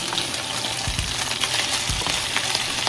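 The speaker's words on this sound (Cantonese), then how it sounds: "煎香一邊先反面，煎到兩邊都金黃色" Chicken pieces pan-frying in hot oil in a wok give a steady, close crackling sizzle, with a couple of low thumps as pieces shift, and no voices.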